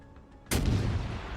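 The IJN Yubari's ship guns in World of Warships: Legends fire one sudden heavy boom that rolls into a long rumbling tail.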